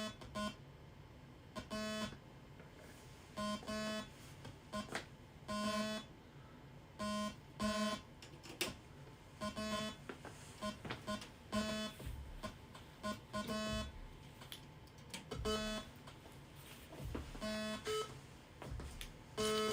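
Analog synthesizer beeps play in a loose freestyle pattern, short bright tonal blips repeating in uneven clusters over a low droning bed, with no talking.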